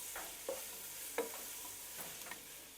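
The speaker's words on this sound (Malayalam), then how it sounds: "ഇനിയിപ്പോൾ ഇതോടൊപ്പം നമുക്ക് കറിവേപ്പിലയും കൂടെ ചേർക്കാം. നന്നായിട്ടിത് വഴറ്റിയെടുക്കാം." Onions and curry leaves sautéing in a pan for a pork roast, with soft continuous sizzling punctuated by several scraping stirs of a spatula, fairly quiet and close.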